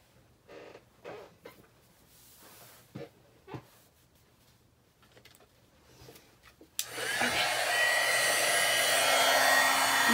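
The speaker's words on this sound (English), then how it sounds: "Using the Wagner heat gun." A Wagner heat gun switches on partway through and blows hot air in a steady, loud, close rush that continues to the end, after a few quiet handling taps.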